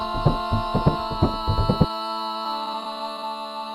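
A vocal sample with a reversed feel plays during a music production session: sung syllables chopped into short rhythmic bursts for about two seconds, then a sustained tonal pad that rings on alone, close and clear.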